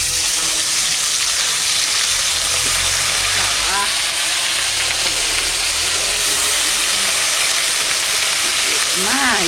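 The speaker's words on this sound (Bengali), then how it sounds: "প্রথমে আমি লেগ পিস গুলো দিয়ে দেবো তেলের মধ্যে।" Chicken leg pieces sizzle loudly in hot oil and ghee for restaurant-style chicken chaap, a steady, close, hissing fry that runs the whole time as voices talk over it.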